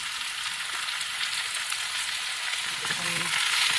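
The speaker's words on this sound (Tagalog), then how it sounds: "ilagay na natin yung meat. So, igigisa lang natin" Meat sautéing in oil with a little added olive oil for Bicol Express, a steady close sizzle running throughout with a faint stirring scrape near the end.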